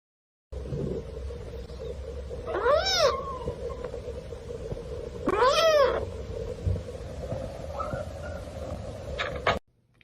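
A pet cat lets out two drawn-out meows a few seconds apart, near and fairly loud, over a constant low indoor hum.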